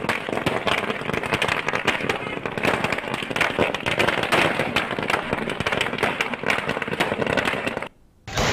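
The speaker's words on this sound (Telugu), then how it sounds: "బాలశౌరి జనసేనలో చేరిన సందర్భంగా కార్యకర్తలు బాణసంచా కాల్చి మిఠాయిలు పంచుకున్నారు." Firecrackers burst in a dense, continuous crackling barrage at a political celebration as supporters welcome a leader joining Janasena. The bursts stay loud and close throughout and cut off briefly near the end.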